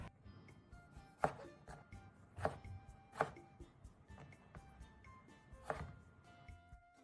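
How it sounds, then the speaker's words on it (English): A knife dices a tomato into one-centimeter cubes on a cutting board, giving a steady series of sharp, close chopping knocks in an uneven rhythm, with no voices. "Dice the tomato into 1 centimeter cubes."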